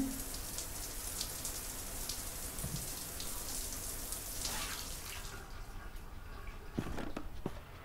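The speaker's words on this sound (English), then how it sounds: "And there's a shower." A shower runs in a house in Ghostbusters: The Video Game, giving a steady hissing spray for about five seconds before it cuts off, leaving a few faint clicks and taps.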